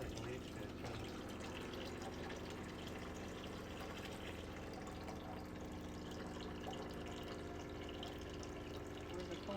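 A pump draws maple sap out of a bucket with a steady, continuous motor hum and rushing liquid flow at close range, with voices faintly audible underneath.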